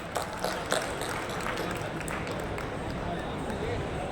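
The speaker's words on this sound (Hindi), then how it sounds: "इसलिए सारी टीम के लिए जोरदार ताली बजा देनी रहेगा।" An audience at the closing ceremony of a trade festival in Bharat Mandapam, New Delhi, applauds the organising team, a broad, continuous rattle of many hands heard from a distance and holding steady throughout.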